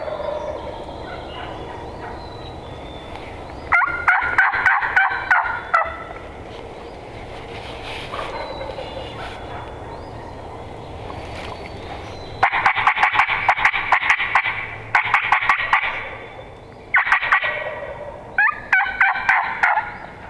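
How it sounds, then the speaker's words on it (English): Wild turkey gobbling in spring woods during a public-land hunt, several loud rattling gobbles in bursts at moderate distance, repeating every few seconds over quiet outdoor background with no talk. "That one turkey's gobbling."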